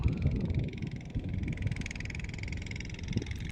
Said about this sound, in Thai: เสียง ลั่นมาเลย ก็ คือเรือหางยาวประมงชายฝั่ง หรือประมงพื้นเมืองออกไปอีกลำครับ